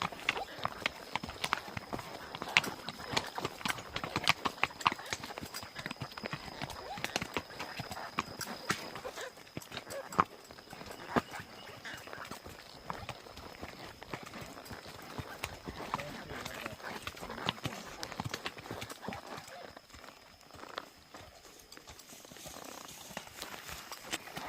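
A gaited Saddlebred racking horse walks calmly on a loose rein, its hooves clip-clopping in a steady, even rhythm close by, with occasional faint voices in the background.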